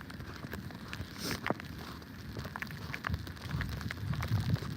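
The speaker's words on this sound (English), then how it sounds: "let me see if I can show the snow hitting. It's like these little ice balls right now." Small ice pellets patter steadily during an outdoor snow storm, a dense crackling of tiny hits with a few sharper taps standing out against the wind.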